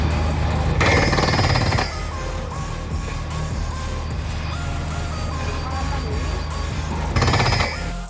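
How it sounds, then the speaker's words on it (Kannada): A borewell drilling machine on a farm runs as a loud, steady mechanical rumble throughout, with harsher pounding bursts near the start and again near the end. "ಡ್ರಿಲ್ಲಿಂಗ್ ಸೌಂಡ್ ಹೆಂಗೆ ಬಂತು"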